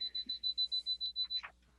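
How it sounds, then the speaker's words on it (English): A handheld moisture meter used in building diagnostics beeps in a rapid, steady series of about nine short, evenly spaced high tones, close and clear, before a brief rustle at the end. "can you hear it beeping? It's very excited."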